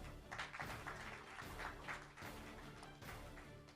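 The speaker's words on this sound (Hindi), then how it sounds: "इसलिए अर्जुन जी इस फिल्म के हीरो है, उनके लिए ताली बजाइए।" An audience at a film event claps for the lead actor, a dense, continuous patter of applause heard faintly from a distance, swelling in a few waves.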